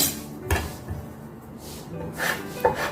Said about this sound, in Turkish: Fesleğenin yapraklarını da ne çok ince ne çok kalın bir şekilde doğruyorum.